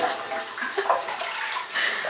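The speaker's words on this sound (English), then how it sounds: "When you stick your head in, go and I'll flush." A toilet flushing at close range, a loud rushing, gurgling surge of water that stays strong throughout, with a faint voice briefly heard.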